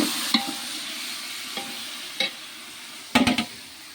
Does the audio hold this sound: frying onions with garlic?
yes